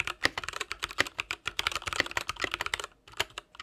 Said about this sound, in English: An interesting way to type.